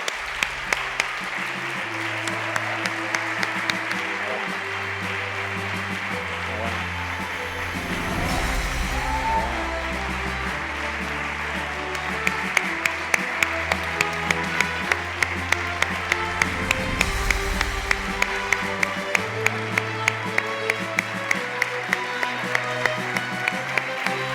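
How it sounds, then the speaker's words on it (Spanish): An audience at an equality awards gala applauds an award presenter with sustained, even clapping that swells louder in the second half, with background music underneath. "Un aplauso para ella"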